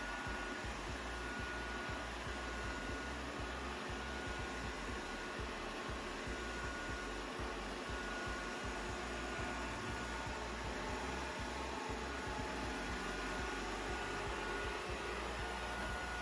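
Tesvor X500Pro robot vacuum sweeping a floor, giving a constant close, even whirring hum with airy noise that holds steady throughout and has no voices over it.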